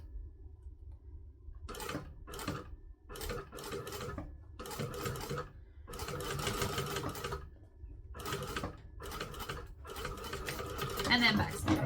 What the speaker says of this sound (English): we take the sew awl and I stab into it and then drag it over to where I want it to be